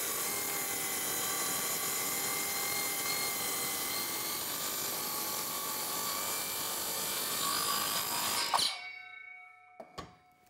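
A circular saw runs a long, loud, steady cut along a straight edge guide through wood for about eight seconds, then winds down to near silence with a couple of faint knocks.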